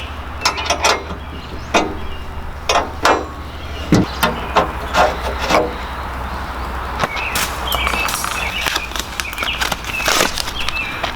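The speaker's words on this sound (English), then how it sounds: "Just take a 3/8 wrench, and there's 2 little flat spots on it, and just kind of turn it off." A 3/8 wrench turning a part loose on a Jeep, with a run of sharp metallic clicks and scrapes, irregular and close, some quick clusters of taps, and no talking over it.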